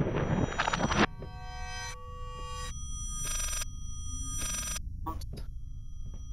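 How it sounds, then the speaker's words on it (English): Telephone ringing in a horror video game: a shrill electronic ring bursts out in several separate rings, each lasting about half a second, over a low rumbling background. "Will someone answer the goddamn phone?"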